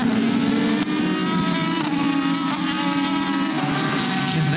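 Race cars at the 6 Hours of Nurburgring endurance race, including a Ferrari and Porsche, with engines droning and shifting pitch as they run past, loud and continuous with no talk over them.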